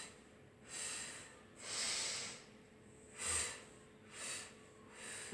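Slow, audible breaths in and out during a seated yoga twist on a mat: five soft, airy puffs of air, each lasting about a second, rising and fading at an even pace in a quiet room with no talk.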